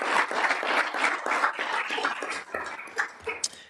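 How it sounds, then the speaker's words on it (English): Applause from the audience at a school board meeting, a dense burst of clapping that thins and tapers off toward the end, fairly close in a meeting room. "we'll give her a round of applause,"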